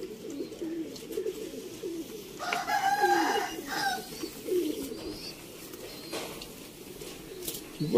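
Rampuri pigeons coo in soft, low rolling phrases from a loft, with brief brighter calls and bird chatter rising over the cooing, sustained throughout at moderate distance.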